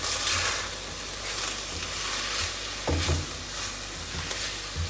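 Cheese sauce stirred in a pan over a burner, giving a continuous soft sizzle and bubbling with occasional low scrapes and thumps of the utensil.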